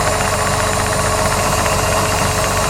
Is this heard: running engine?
yes